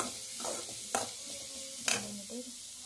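Vegetables for a simple veg soup sauté in butter and oil, giving a quiet, steady sizzle with a few sharp scrapes of a stirring spoon against the pan, heard close up.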